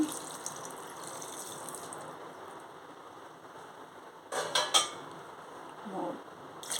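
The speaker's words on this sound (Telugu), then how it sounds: "ఈ వాటర్ కూడా ఇందులో వేసేసుకుందాం వేస్ట్ చేయొద్దు దీంతో ఐదు గ్లాసులు వాటర్ వేసుకోండి" Water pours steadily into a pot of foxtail millet khichdi with a hissing, splashing rush, broken by a couple of brief metallic clinks of cookware.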